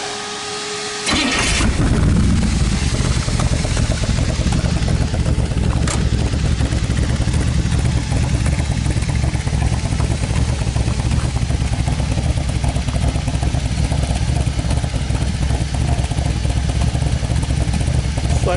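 A 1963 Corvette with a Blueprint 383 engine fires up after a brief crank, then settles into a loud, steady rumbling idle through its side pipes, close by and continuous to the end.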